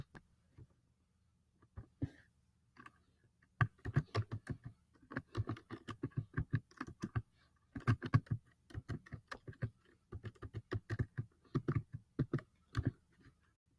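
Someone types a full name on a computer keyboard: quiet, close key clicks in uneven bursts, with short pauses between words.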